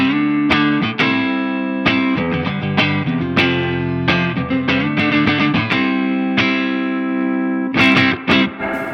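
Distorted electric guitar played through a Laney Lionheart Loudpedal solid-state pedalboard amp, loud and sustained, with chord strikes, ringing notes and brief gaps, carrying some reverb.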